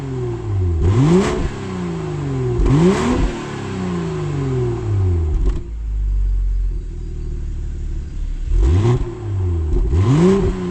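2025 BMW M240i accelerating hard from a standstill in a 0-100 test, loud close engine sweeps rising sharply through repeated gearshifts, with a brief quieter lull before the surging runs return.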